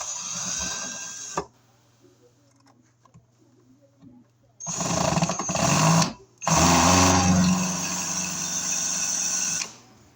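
A power driver running screws into an electrical handy box fed with MC cable, giving a short whine, a quiet pause, then two longer loud motor bursts close by, separated by a brief stop.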